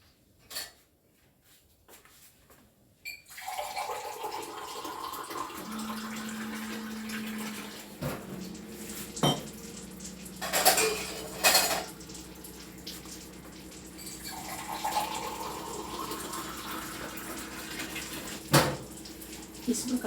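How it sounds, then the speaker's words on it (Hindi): Water poured into a household vessel for a Sargi ritual: a steady splashing pour that starts abruptly and runs on with a few clinks of metal, with a voice speaking over part of it. "अब इसके साथ भी थोड़ा सा हमें पानी रखना है।"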